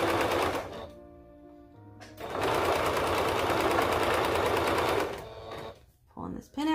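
A sewing machine stitches fabric for a crop top in two fast, steady runs, one short at the start and a longer one mid-clip, with a voice talking during the pause between them.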